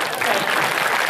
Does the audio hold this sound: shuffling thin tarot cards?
no